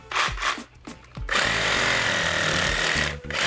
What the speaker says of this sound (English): I just take a sawzall,